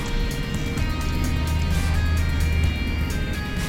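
A ten-wheeler truck passes on a winding mountain road, a loud, steady low engine drone holding close for several seconds with continuous rumble and road noise.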